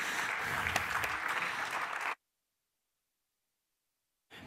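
An audience applauds at a keynote conversation with chef Raymond Blanc, a dense burst of clapping for about two seconds. It cuts abruptly to silence, then briefly resumes at the end.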